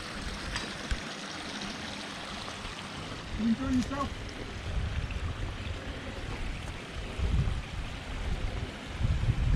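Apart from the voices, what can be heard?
garden pond waterfall stream flowing into basin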